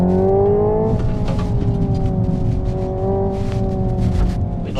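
Hyundai Ioniq 5 N (2024) electric car playing its simulated engine sound while driving, a loud steady synthetic drone with a rising and falling engine-like pitch, sustained close up throughout.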